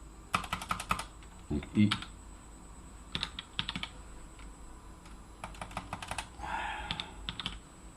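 Close, quiet typing on a computer keyboard during a Linux setup, with bursts of rapid key clicks separated by pauses and a brief spoken word near the start.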